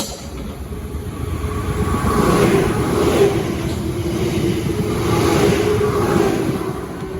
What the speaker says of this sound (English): the next train to pass by will be another Southeastern 465